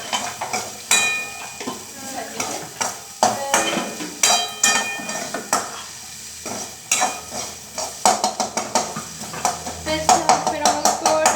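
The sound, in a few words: stirring salt into frying food in a pan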